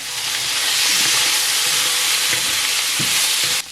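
Beef stir-frying with chili flakes and garlic in a hot pan, a loud, dense sizzle throughout with a few spatula knocks near the end and no talking.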